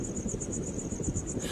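Crickets chirp in a steady, evenly pulsing trill at night in desert habitat at the edge of a town, a thin high sound that continues without pause over a soft low rumble.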